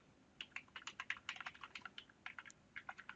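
A web address is typed on a computer keyboard: a quick run of close, crisp key clicks in irregular bursts, with short pauses between clusters, faint and alone.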